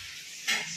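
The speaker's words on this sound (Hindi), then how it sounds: "पनीर प्याज भजा" Paneer and onion fry in a pan with a steady close sizzle, swelling into a brighter hiss for a moment as they are stirred.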